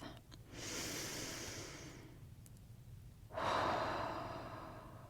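Slow deep breaths during a flow ritual, one long exhale-like rush followed by a pause and then a stronger, louder breath, close and alone with no talking.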